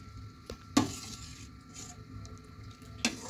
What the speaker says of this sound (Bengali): নাড়তে থাকতে হবে সমানে দুধটাকে